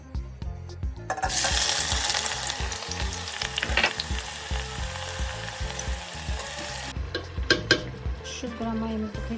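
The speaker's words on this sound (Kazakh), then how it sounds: "Грамм майымызды құйдық, оның үстіне жаңа турап дайындап алған пиязымызды салдық." Freshly chopped onion hits 300 grams of hot sunflower oil in a pot and bursts into loud, crackling sizzling that stays steady, with brief stirring clatter and a spell of running water near the end.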